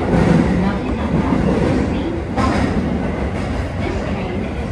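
Tokyo Metro Chiyoda Line local train running underground, a loud, steady rumble and rattle of wheels with faint clicks throughout, no voices on top.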